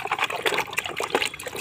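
Water sloshing and trickling as toy trucks, including a bulldozer, are washed in a container of clean water; steady close splashing and dribbling with no pauses.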